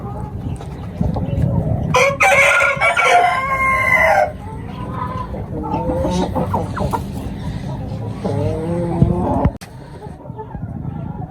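A rooster crows loudly up close while hens, including a white Ayam Cemani-type breed, cluck and cackle around it on a rooftop poultry setup, with someone talking over the birds.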